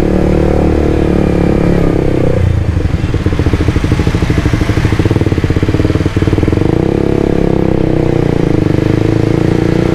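Suzuki GSX-R150 motorcycle crawling through a traffic jam in Dago, its engine running steadily up close, with a rapid pulsing putter mid-clip as it idles and rolls amid surrounding traffic noise.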